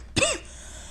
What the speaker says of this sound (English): As the cough strikes again.